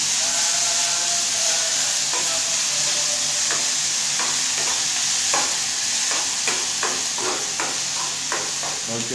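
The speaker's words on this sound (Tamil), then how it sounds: "லைட்டாக வதக்கிக்குவோம் ஆனியனா." Sliced onions sautéing in a pan for a home dinner in the Gulf, a steady close sizzle and frying hiss with repeated scrapes and clinks of a spoon stirring through it, no talking.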